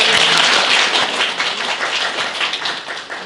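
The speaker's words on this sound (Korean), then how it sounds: "박수." A church congregation claps together to welcome newcomers during a Sunday service, a loud, dense burst of applause that gradually thins and softens over a few seconds.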